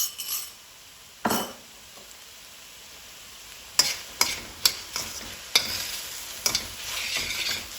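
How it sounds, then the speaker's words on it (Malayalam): Spring onion bulbs shallow frying in a pan and being stirred, a steady sizzle broken by several sharp clinks and scrapes of a utensil against the pan. No one talks. "ജസ്റ്റ് ഒന്ന് ഷാലോ ഫ്രൈ ചെയ്തെടുക്കാം."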